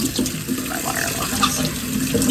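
Tap water runs steadily into a kitchen sink, a continuous close splashing stream with light gurgles, heard alone.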